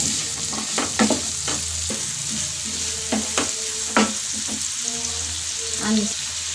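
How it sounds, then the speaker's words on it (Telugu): Onions, curry leaves and green chillies fry in oil with a few cumin seeds, sizzling steadily up close while a spoon clinks and scrapes the pan at irregular intervals. "ఆనియన్స్, కరివేపాకు, పచ్చిమిర్చి వేసి వేగనివ్వాలి."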